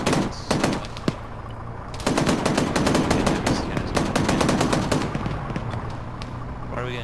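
Rapid bursts of automatic gunfire in a military video game, loud and dense, with single shots early on and then sustained volleys that run without letup, a voice briefly heard beneath.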